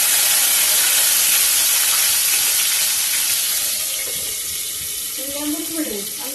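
Green chillies dropped into hot oil with cumin, mustard seeds and curry leaves for avalakki give a loud, dense, steady sizzling hiss that eases slightly toward the end, with a faint murmur of voice underneath.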